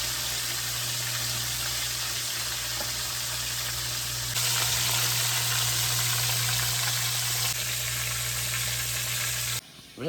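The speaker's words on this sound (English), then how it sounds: "I'm frying backstrap in the background." Backstrap fries in a pan with a steady, even sizzle that runs without a break, a low hum beneath it and no voices.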